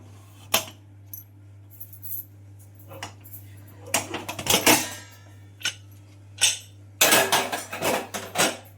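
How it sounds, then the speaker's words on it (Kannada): A pressure cooker used for broken wheat is opened in a kitchen: sharp metallic clanks and clatters of the lid and vessel come in irregular bursts over a low steady hum. "ಕುಕ್ಕರ್ ನಾಲ್ಕು ಸಲ ಕೂ ಆಗಿದೆ ಪ್ರೆಷರ್ ಇಳಿದಿದೆ ಇವಾಗ ತೆಗೆದು ನೋಡೋಣಂತೆ"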